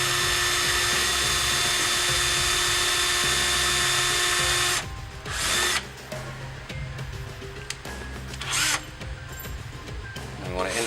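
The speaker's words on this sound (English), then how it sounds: "Then go ahead and drill the install hole." A power drill bores the install hole for an SPW 367 door actuator on the hinge side, a steady loud whine for about five seconds, then shorter bursts with pauses.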